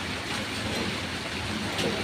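Steady rain pouring down, a dense, even hiss with a low rumble underneath, loud and continuous with no voices.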